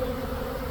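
A swarm of honey bees arriving at a nucleus hive of ten deep frames, a dense, steady buzzing hum that fills the brief moment, close and continuous.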